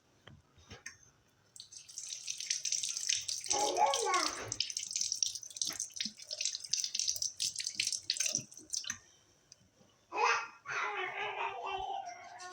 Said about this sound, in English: Let me rinse the fish.